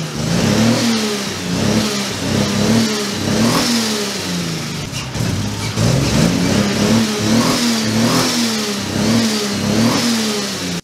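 Turbocharged 2JZ engine in a Datsun 260z, breathing through a custom stainless exhaust, revving repeatedly in loud rising and falling pulls with a rough, raspy drone, close up and without talking.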